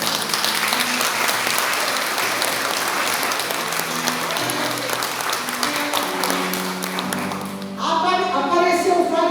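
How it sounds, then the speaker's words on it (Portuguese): A church congregation applauds with sustained, dense clapping over a steady keyboard accompaniment, the applause fading as a voice and the music carry on. "Vamos aplaudir o Senhor."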